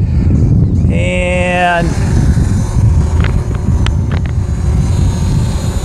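A DJI Mavic Pro drone spins up and lifts off outdoors, a rising whine of propellers under wind noise, with a brief spoken word near the start.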